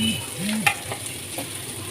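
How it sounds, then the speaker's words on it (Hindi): Sizzling and frying in a pan with a spoon scraping and stirring through a thick ground garlic and chili paste being roasted for chutney, steady crackle with occasional clinks. "जो हम लोगों ने लहसुन और मिर्चें वगैरह पीसी थी वो इसमें डाल देंगे"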